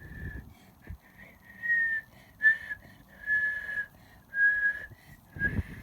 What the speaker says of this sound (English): Also learned to whistle,